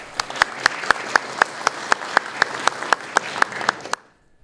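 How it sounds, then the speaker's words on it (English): Audience applause at a conference plenary session, with sharp, regular claps standing out above a broader crowd wash. It lasts about four seconds, then stops abruptly into silence. "let's give some applause to our foreign and international visitors."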